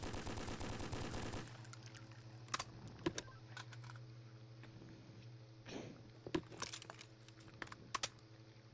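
Rapid burst of 7.62 rifle fire in a Roblox game on an Afghanistan Kandahar map, a fast rattling volley at the start followed by scattered sharp cracks and clicks over a low steady hum.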